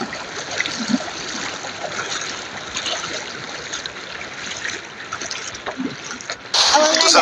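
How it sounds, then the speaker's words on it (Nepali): Wading across a flowing stream on foot brings a steady, close rush of running water throughout, with a louder splashing burst in the final second. "अब त्यो एउटा खोला तर्नुपर्छ"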